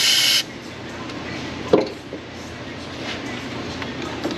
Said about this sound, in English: Actually, get some more spray in there.